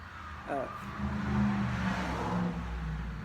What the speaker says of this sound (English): Friday Night Traffic going by the house, kind of loud and distracting